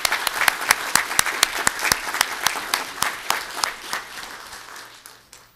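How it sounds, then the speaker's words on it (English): Audience at a city council meeting breaks into applause, with sharp individual claps over a steady wash that fades out toward the end. "So let's give them a round of applause."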